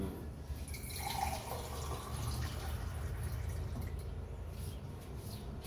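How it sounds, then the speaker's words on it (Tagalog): Water pours steadily into a blender container for a Herbalife shake, a soft continuous rushing fill with light splashy trickle, fairly quiet and close, with no talk. "Tubig. Kuha tayong tubig."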